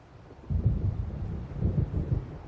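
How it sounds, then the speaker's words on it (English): Low, rolling thunder of an approaching storm in the video game Alan Wake Remastered, a faint murmur that swells into two long, loud rumbles, with no one speaking. "It seems there's a storm coming."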